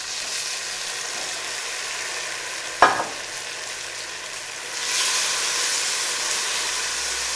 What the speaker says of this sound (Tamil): இஞ்சி பூண்டோட பச்சை வாடை போன உடனே நம்ம சிக்கன் சேர்த்துக்கலாங்க.